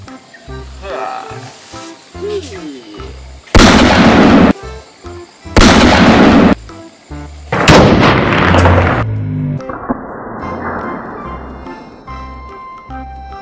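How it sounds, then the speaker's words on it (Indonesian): Loud bursts of toy gunfire, several blasts in a row with brief pauses, followed by a fading electronic whirring tone, no talking. "Yang ini ada tembak pistol Uzi."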